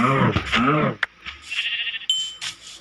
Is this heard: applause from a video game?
no